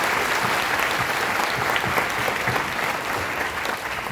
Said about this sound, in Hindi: एक बार जोरदार ढंग से ताली बजा देंगे